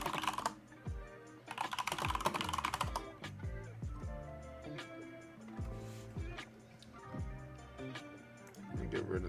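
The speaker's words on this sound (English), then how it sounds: "Keyboard is so loud. I'm just a fast typer" Rapid keystrokes clatter on a computer keyboard in quick bursts, close and fairly loud, with brief pauses between flurries.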